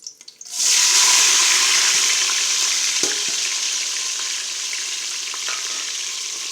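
Green chillies, onion and tomato hit hot oil for a vegetable biryani with a sudden loud splash, then settle into a steady, bright sizzle with a few faint stirring clinks and no talking.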